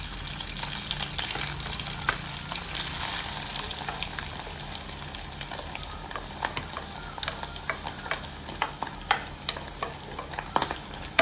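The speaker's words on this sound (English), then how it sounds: "Next நெத்திலி goreng பண்ணுவோம்." Anchovies frying in a pan for idi sambal, a steady oily sizzle with frequent scraping and clicking of a utensil stirring against the pan, close and continuous with no talk.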